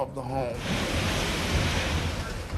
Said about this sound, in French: Des vagues de 8 mètres déferlent sur la côte du Golfe.